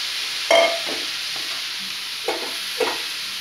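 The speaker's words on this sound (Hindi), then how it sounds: "सभी सब्जियों को डाल के हमें ज़्यादा नहीं भूनना है, हल्का भूनना है" Vegetables and grated carrot are lightly stir-fried for a steamed veg momo filling, with faint background sizzle broken by a few short stirring scrapes and clatters in the pan.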